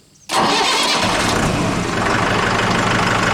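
A new tractor's engine cranks and catches after a brief quiet moment, then settles into a loud, steady running roar close by.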